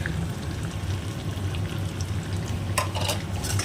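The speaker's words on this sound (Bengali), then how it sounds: "আমি একটু ভালো করে নেড়ে চলে নেবো মশলাটা।" Ground coriander and red chili powder are stirred with fried ginger in a pan for a Rui fish curry, giving a soft, steady sizzle under a low background hum. A few scraping clatters come near the end.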